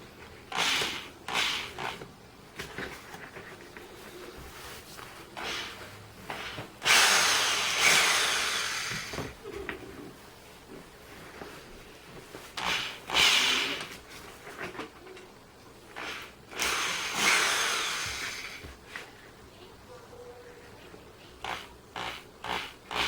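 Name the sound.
drilling holes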